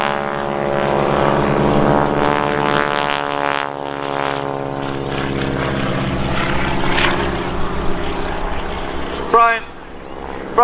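A propeller biplane in a wingwalker display at Old Buckenham Airshow, trailing smoke, roaring loudly close by with a steady droning engine that shifts pitch as it flies past, while a voice talks over the noise.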